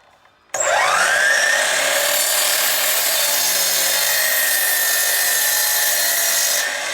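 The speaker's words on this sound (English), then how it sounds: "Each end of this 2x3 needs to have this angled cut, so we're just going to cut this edge first" A power saw starts up and cuts a 45-degree mitered edge on a wooden 2x3, giving one loud sustained whine up close after a short quiet lead-in.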